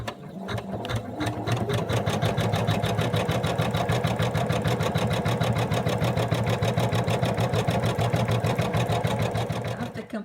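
Embroidery machine stitching a top outline on a hooped design, a fast continuous rhythmic needle clatter with a steady motor hum, close and constant throughout.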